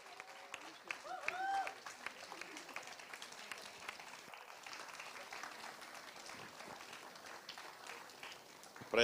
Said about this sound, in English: Can we all make some noise for the man himself, Mr. Ashish Porwal?